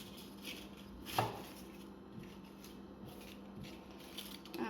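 A knife chops tomatillo or onion on a cutting board for tomatillo salsa, producing one clear crisp cut and then a few softer, scattered taps against a steady background hum.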